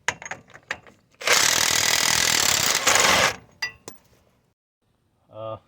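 An impact wrench on a 2001 GMC Sierra 2500 hammers loose a 36 mm axle nut in one loud, sustained rattling burst of about two seconds. Scattered clinks come before it, and metallic rattles and a short ringing tone follow.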